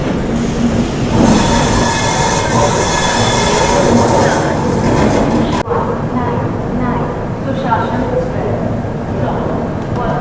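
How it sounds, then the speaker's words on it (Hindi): The Lucknow Mail express pulls into Charbagh railway station in Lucknow, close and loud, with wheels squealing and grinding along the rails. The sound eases partway through into a lower rumble of rolling carriages. "नवाबों के शहर लखनऊ के चारबाग रेलवे स्टेशन पर अपनी लखनऊ मेल आ चुकी है"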